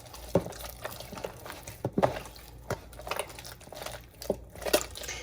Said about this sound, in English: we're going to kind of squeeze the dough, pinch it and squeeze it and just incorporate that salt and that extra water